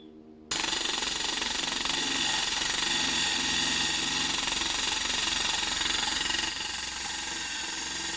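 A toffee eraser wheel on a power drill strips car badge adhesive, starting with a sudden loud, steady high-speed whirring grind that runs continuously and drops slightly in pitch near the end.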